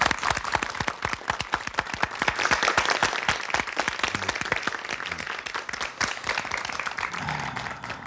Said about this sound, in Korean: 여러분 좀 격려의 박수를 좀 보내드리겠습니다